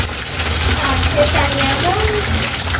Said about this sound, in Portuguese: Como o óleo tá bem quente, ó, vai fritando bem rápido.